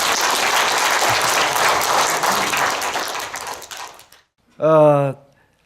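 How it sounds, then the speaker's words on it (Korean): Loud audience applause welcoming a lecturer to the stage, sustained clapping that fades away, followed by a brief voice speaking into a microphone. "큰 박수로 환영해 주십시오"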